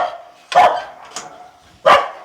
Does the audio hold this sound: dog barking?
yes